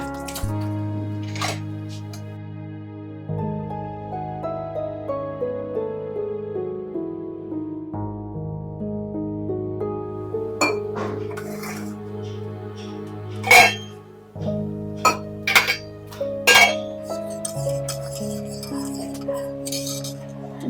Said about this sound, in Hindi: इसके लिए नींबू पानी बनाती हूँ मैं।